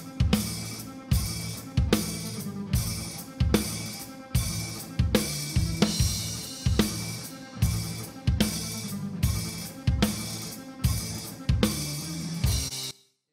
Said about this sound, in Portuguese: Esse é o som de bateria final que eu cheguei nessa mix aqui.